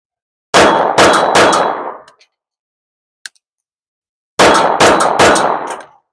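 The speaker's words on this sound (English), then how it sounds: "let's get back to shooting" Two quick strings of three loud, close gunshots from a SIG M17/P320 handgun fitted with a Brouwer polymer frame, each burst ringing out briefly, separated by a few seconds of quiet with a faint click between them.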